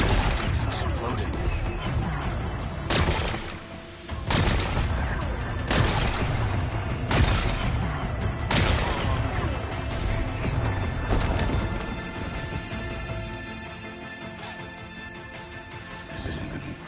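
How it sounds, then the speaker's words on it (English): Rocks being blasted apart and exploding in Horizon Forbidden West, heard as a continuous dense roar of rumbling debris, punctuated by several sharp, loud bursts spaced a second or two apart. "Gotta blast away some rocks, so I can expose the power cell."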